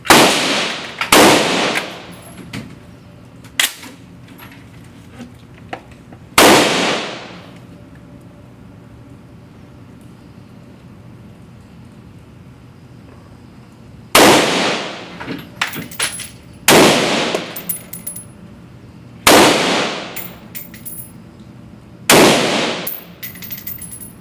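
A Steyr AUG rifle firing reloaded ammunition at an outdoor range, with loud single cracks and quick strings of shots that ring out and decay, separated by quiet pauses.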